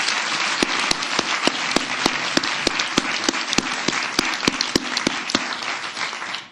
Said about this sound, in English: give the mayor a round of applause